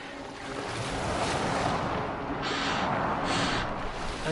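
A boat moves through water in Assassin's Creed Valhalla, a steady broadband wash of water and wind with gentle swells of louder splashing, heard alone without speech.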